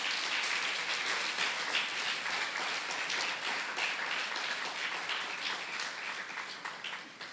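A church congregation breaks into loud, sustained applause during a sermon, a dense wash of many hands clapping steadily for several seconds before tapering slightly at the end.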